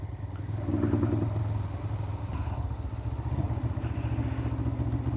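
A motorcycle on a street in Islamabad revs up then eases off, its engine a close, rattling mid-pitched drone with a throbbing pulse throughout; no talk.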